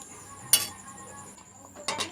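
A lid set onto a cooking pot holding a simmering Bengali rupchanda fish curry with potato and taro, giving two sharp metallic clanks about a second apart, with a faint steady background hiss between them.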